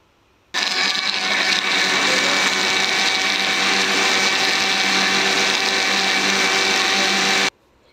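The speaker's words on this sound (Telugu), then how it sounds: "ఇప్పుడు టమాటో కూడా యాడ్ చేసి మళ్ళీ మిక్సీ పట్టుకోవాలండి" A kitchen mixer grinder whirs loudly and steadily for about seven seconds, grinding onions, tomato and garam masala for a chicken curry, starting and stopping abruptly with no talk over it.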